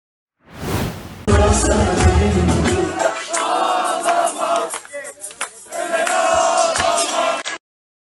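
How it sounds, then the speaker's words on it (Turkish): Football fans chant together in a stadium, a loud roar of massed voices that carries on for several seconds, dips briefly and swells again before cutting off. "Abi Fenerbahçeliler çok eleştirdi Dursun Özbey'in bu tezahürata eşlik etmesini"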